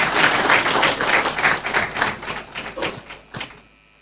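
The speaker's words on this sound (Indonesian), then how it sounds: "Boleh tepuk tangannya para hadirin sekalian." Applause from attendees at an Indonesian education event, a moderate round of clapping that starts full and thins out into a few last claps before fading to quiet.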